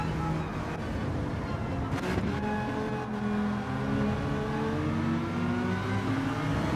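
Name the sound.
race cars racing at Brands Hatch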